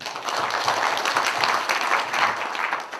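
Steady applause from delegates at a union general meeting approving the agenda, a moderate wash of many hands clapping continuously throughout.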